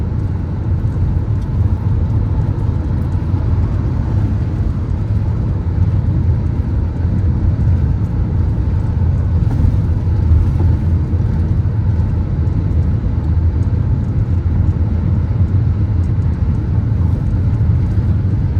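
Traffic full of large trucks roars along the M6 motorway between Korat and Pak Chong in Thailand, a loud, continuous low rumble of heavy engines and tyres heard from close by.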